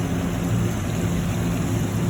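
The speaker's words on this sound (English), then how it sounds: "You can see it sizzling with the tomatoes." Tomatoes sizzle in a hot pan, a steady dense frying hiss and crackle that stays close and loud throughout with no talk over it.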